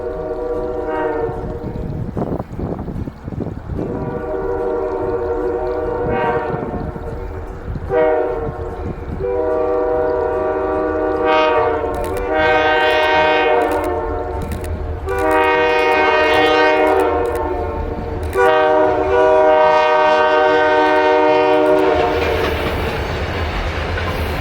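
Genesee and Wyoming freight train rolling into Fowlerville, New York on the Dansville Branch, its horn sounding in several long loud blasts over the rumble and clatter of passing railcars, with no talk.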